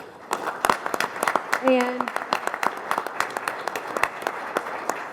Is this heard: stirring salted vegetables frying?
no